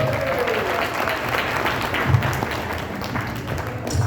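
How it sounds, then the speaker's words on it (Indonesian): A crowd at a stage performance claps together in a steady, full burst of applause, with cheering voices and a few louder thumps mixed in. "Tepuk tangan dulu,"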